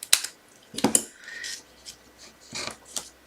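Scissors snip through paper for a forest-themed craft project, giving a few short, close, crisp cuts with brief pauses between them, heard alone without talk.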